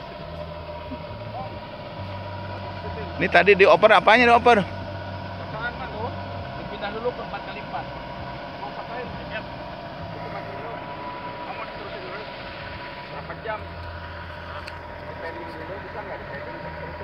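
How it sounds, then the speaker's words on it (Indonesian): Off-road vehicle engine left idling during a rest stop, a low steady rumble running throughout, with people talking nearby and a short burst of louder rattling noise early on. "Tapi hidup terus mesinnya."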